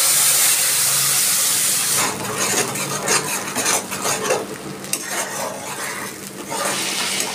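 A water-soaked spice paste drops into hot oil in a pan, shifting from a quiet simmer to a busy crackling sizzle with repeated stirring scrapes and utensil clinks against the pan.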